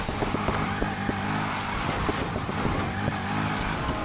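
A powerful car drifts through Palm City in Need for Speed Heat, its engine roaring steadily with rhythmic gear-like pulses and tire noise, loud and continuous.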